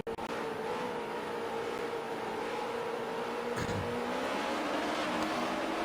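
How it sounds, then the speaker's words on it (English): Race car engines idling and revving together on the grid before a green flag at Watkins Glen in a NASCAR racing video game, a continuous droning hum with a brief surge near the middle. "Everyone's revving their engines, ready to go to green flag any moment."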